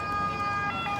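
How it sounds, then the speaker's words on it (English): An ambulance siren sounds steadily at moderate distance on a street in Rome, a sustained tone with road noise beneath it. "Come on, ambulance."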